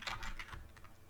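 Quick, light key clicks from a computer keyboard while entering a formula in Excel, a short close run of taps at an even pace with no talking.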